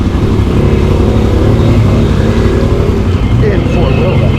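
Can-Am Outlander 850 ATV with an MBRP performance exhaust idling through a mud hole, a loud, close, steady low engine rumble throughout, with riders talking over it.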